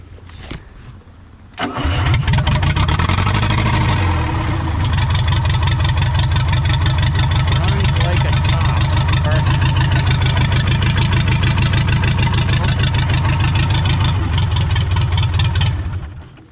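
A Komatsu D31S track loader that sat for over ten years cranks briefly, then fires and settles into a loud, steady diesel idle that runs for about fifteen seconds before cutting off.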